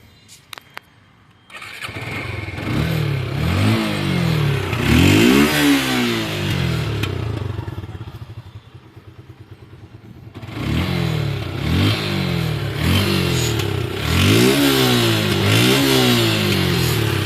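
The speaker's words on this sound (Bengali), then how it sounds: "আপনাদের স্টার্ট করে বাইকের সাউন্ড দেখিয়ে দিচ্ছি যে কেমন" A Suzuki Gixxer motorcycle in fresh condition starts up after a short crank, then idles and revs repeatedly in rising and falling bursts, loud and close, with a brief quieter idle stretch in the middle.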